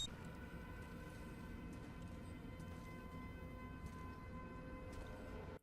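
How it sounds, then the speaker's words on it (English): Air raid sirens wail in the sci-fi horror video game The Callisto Protocol, a steady, faint, droning tone that holds without a break and is heard alone. "Unsurprisingly, neither does the air raid sirens."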